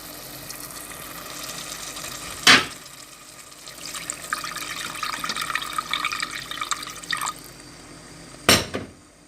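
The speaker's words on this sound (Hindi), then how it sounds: "अब हम ग्रेवी बनाने के लिए इसमें थोड़ा सा पानी डालेंगे।" Water poured into a pan of mutton kofta curry to make the gravy, a soft trickling splash lasting a few seconds between two sharp clinks of a glass, fairly quiet and with no talk.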